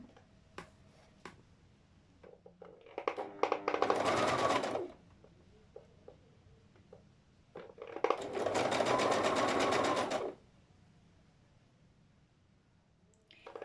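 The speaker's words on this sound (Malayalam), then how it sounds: "ഞങ്ങൾ സ്റ്റിച്ചിങ് ചെയ്യാം." A sewing machine stitches fabric folded over twice, running in two loud bursts of a few seconds each, separated by quiet stretches with faint clicks and handling noises, no talking.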